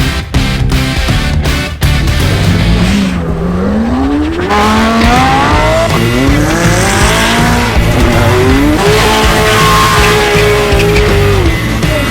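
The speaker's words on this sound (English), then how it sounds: "I've seen and heard some of the most amazing and expensive cars in the world." Expensive supercars at Supercar Fest The Runway 2022, a runway driving event: loud, continuous engine roar with rising revs and repeated sweeping tire squeals, close and dense throughout.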